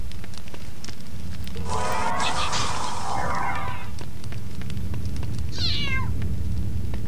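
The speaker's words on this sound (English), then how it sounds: "So now it's just Mrs. Norris's cat." A cat meows in the Harry Potter and the Philosopher's Stone PC game, a clear drawn-out meow near the end over a steady background of rain-like hiss and game ambience.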